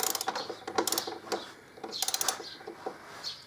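Quick clicking of a ratchet tightening swingarm bolts on a 2005 Harley Electraglide, bursts of rapid pawl clicks in short strokes, close and moderately loud with no talk.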